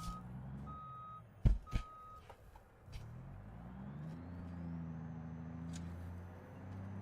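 A truck reversing in the BeamNG driving game gives steady electronic backup beeps in short repeated tones over a low idling engine, with a couple of sharp thumps, then the engine revs and climbs as it moves off.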